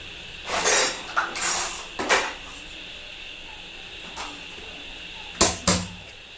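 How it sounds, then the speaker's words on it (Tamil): In a home kitchen during cleaning, a lid is fitted onto a storage tin. Several close metallic clinks and scraping clatters come in separate bursts, with quiet pauses between them. "இதை ஒரு டப்பா மூடி போட்டு மூடிடுவோம்."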